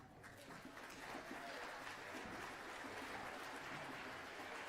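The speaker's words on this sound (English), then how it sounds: "please stand now and let's give them applause" Audience applause at a middle school orchestra concert, a steady, even wash of clapping that stays faint and distant throughout.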